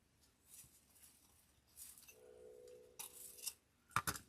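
Scissors trim ribbon tails on a Christmas centerpiece made from garland, with a few quiet snips and rustles followed by a cluster of crisp cuts near the end in a hushed room.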